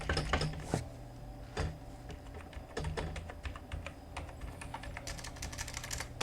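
Rapid clicking keystrokes on a computer keyboard while entering numbers into an Excel spreadsheet, close and crisp, coming in irregular bursts with short pauses over a low background hum.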